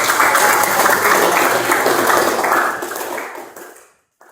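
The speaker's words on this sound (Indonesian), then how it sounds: "Tepuk tangan untuk diri kalian sendiri." Audience applause at a madrasah student orientation event, steady dense clapping from a crowd that holds for about three seconds then fades out.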